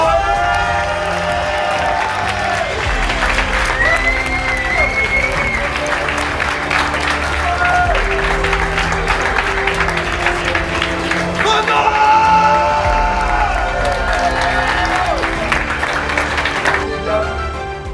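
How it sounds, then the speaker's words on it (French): A crowd at a street lifting competition applauds and cheers loudly and continuously for a third-place finisher, with whoops over a dense wash of clapping and music-like tones underneath. "je voudrais un tonnerre d'applaudissements pour Renaud"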